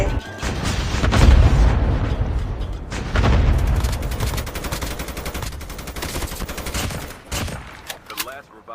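Heavy gunfire in a Call of Duty match, with dense bursts of automatic shots and loud booming blasts that continue almost without a break, thinning into scattered sharp reports near the end.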